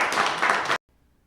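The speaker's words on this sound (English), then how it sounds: "Let's give her another round of applause." A short burst of clapping from a small audience that stops abruptly into near silence.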